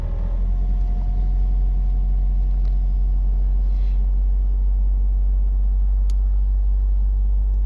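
A 1993 Toyota pickup's 22RE four-cylinder engine idles steadily just after a cold start, a close, constant low rumble with a faint whine running through it and no talking.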